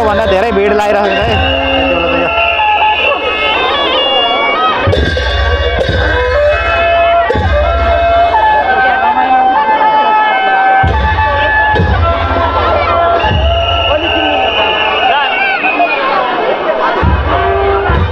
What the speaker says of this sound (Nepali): भीड लागिराखेछ है माहौल देख्नुस् तपाईहरु